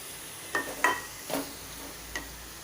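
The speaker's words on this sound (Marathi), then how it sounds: "भाजी छान अशी मिक्स करून घ्यायची आहे ठेचा कांदा याच्यात" A spoon scraping and stirring red amaranth greens with crushed onion in a pan, four short clattering strokes against a soft, steady sizzle, close and fairly quiet.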